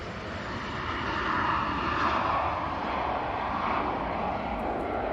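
An Etihad Boeing 777 airliner at Manchester Airport roars steadily as a broad, continuous jet rumble, swelling slightly toward the middle and holding loud and fairly near throughout with no voices.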